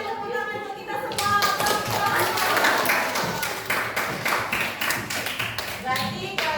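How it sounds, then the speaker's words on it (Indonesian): A classroom of children clapping their hands together, with dense rapid claps that start abruptly and continue for several seconds, fairly close. A few voices can be heard at the start. "Mari tepuk tangan untuk kita semua"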